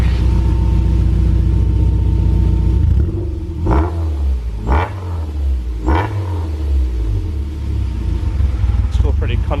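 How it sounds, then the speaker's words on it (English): A warm car engine, recently tuned up, idles at the tailpipe with a deep steady rumble, then three short revs swell and fall back before a final blip. "so I can listen to the tailpipe"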